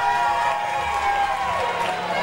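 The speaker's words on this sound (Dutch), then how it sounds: "Applaus voor Sangeeta." An audience at a playback show in De Wilp applauds and cheers for a contestant, giving steady, dense clapping at a constant loud level throughout.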